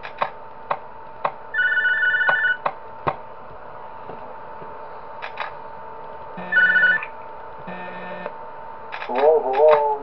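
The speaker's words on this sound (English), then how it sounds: "Alright, we get a phone call." An in-game telephone in the horror video game Five Nights At John's rings in repeated short bursts among clicks and ticks, with a voice coming in near the end.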